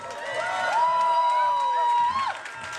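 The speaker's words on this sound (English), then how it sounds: "So let's give him a big round of applause." Crowd at the Occupy Vancouver protest encampment cheering and whooping with some clapping, a sustained loud roar with a prominent voice holding a long shout, fading slightly near the end.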